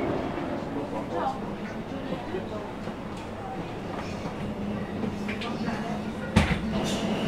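Interior of a moving London metro train, with a steady low rumble and rattling of the carriage, occasional clicks and a sharp knock near the end; voices murmur faintly in the background.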